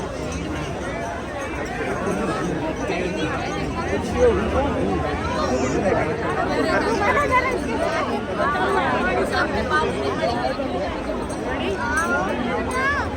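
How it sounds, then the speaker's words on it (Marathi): A dense crowd bustles along a street in Vrindavan, a steady close hubbub of many overlapping voices and footsteps with no single voice standing out. "बापरे, अशी गर्दी आहे ना इकडे"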